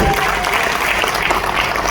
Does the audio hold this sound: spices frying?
no